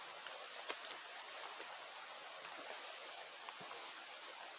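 Steady broadband rush of a waterfall and brook flowing through the North Maine Woods, continuous and fairly close, with faint rustling and small crackles over the constant water noise.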